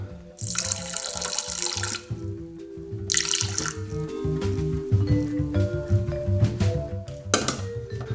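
Water pours into a Thermomix bowl being weighed, in two loud, splashing streams, stopping briefly between them, over a steady low mechanical hum and a few light clinks.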